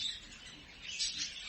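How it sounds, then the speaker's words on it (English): Birds in an aviary chirp softly in quick, high tweets over a faint airy background, fairly distant and gentle, with no voices. "So many birds."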